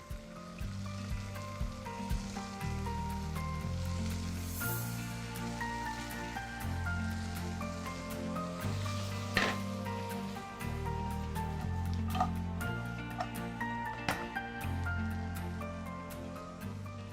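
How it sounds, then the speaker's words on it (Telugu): Chicken and carrot sizzle steadily in hot oil while frying for oshi pulav on a cooking show. The constant crackling hiss sits under soft background music, with occasional sharper pops. "కొద్దిగా క్యారెట్ ఫ్రై అయిన తర్వాత చికెన్ వేసుకుంటున్నాం."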